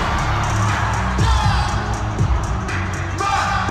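A dense, roaring crowd cheers and yells at a concert, the noise steady and loud throughout with scattered whoops and shouts rising above the wash.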